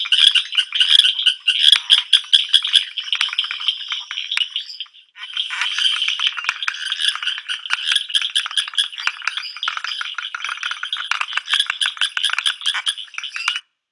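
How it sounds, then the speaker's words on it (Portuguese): Leptodactylus frogs call at a pond near Botucatu, a dense chorus of rapid click-like taps and rattling notes, loud and close, with a short pause partway through before the clicking resumes. "Os leptodáctilos que ocorrem muito, são os sapos aqui da região também"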